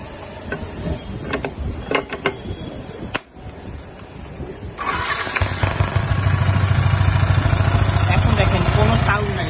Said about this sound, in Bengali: তো বাইকের এই যদি আমরা এই বাটি থেকে ক্লাস প্লেট আলাদা করে নিই, তারপরে যদি কাভার লাগাই তাহলে সাউন্ড দেখেন কেমন হয়